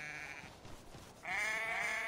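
A short bleat from a sheep in Assassin's Creed 3 is followed after a brief pause by a louder, sustained bleat, both close.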